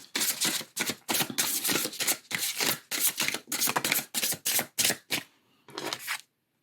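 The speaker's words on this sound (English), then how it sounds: "I'm going to shuffle some tarot for you." Tarot cards are shuffled in a rapid series of crisp riffling bursts, about a dozen short close swishes in an uneven rhythm, a brief pause, then one last shuffle before silence.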